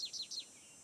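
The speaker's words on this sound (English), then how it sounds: "American goldfinch." American goldfinch call in the Nancy Drew game Ghost Dogs of Moon Lake, three quick, high, thin chirps in a rapid row, faint, with nothing else around them.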